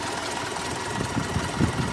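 A tractor engine, a Mahindra 575 DI or Farmtrac 45 hauling a sugarcane trolley on a farm field, runs steadily with a low knocking rumble, close and continuous.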